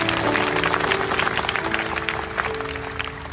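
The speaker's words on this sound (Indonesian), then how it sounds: "Yang percaya kasih tepuk tangan untuk Tuhan Yesus." Applause from a church congregation at a Pentecost service in Kuching, Sarawak, a steady dense clapping that fills the clip over a sustained musical tone underneath.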